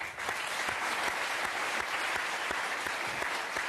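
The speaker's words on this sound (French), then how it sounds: "On l'applaudit," A French TV talk-show studio audience applauds the guest's producer, a thick, even patter of many hands clapping that rises quickly and holds steady, heard from a slight distance at fairly low volume.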